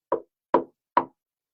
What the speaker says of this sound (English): he knocked at the farmer's door